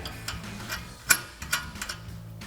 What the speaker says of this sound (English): grab 18mm socket and tighten that down